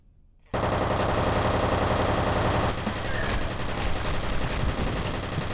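Rapid, dense automatic gunfire in the shooter game F.E.A.R. bursts in after a brief quiet start and keeps hammering loudly and continuously to the end, with no voices over it.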